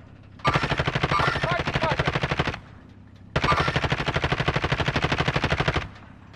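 Two long sustained bursts of rapid automatic gunfire in a duo shooter video game match, each lasting about two seconds, loud and close, separated by a short pause.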